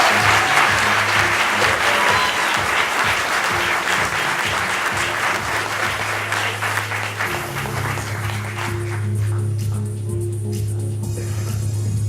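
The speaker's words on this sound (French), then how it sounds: "nous accueillons sous vos applaudissements," An audience at a French research showcase event applauds to welcome a doctoral candidate onto the stage, the clapping loud and full at first, then thinning out toward the end as a low hum remains.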